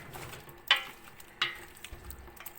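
Spices get stirred into onions in a frying pan for chicken necks, with a soft background sizzle and a couple of sharp scraping knocks of the utensil against the pan, quiet and close, without speech.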